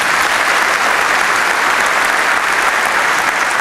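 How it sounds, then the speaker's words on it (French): Loud, dense applause from an audience at a cycling team presentation for the Europcar team at the Vendéspace arena, steady and sustained throughout with no pause. "vous pouvez l'applaudir très fort"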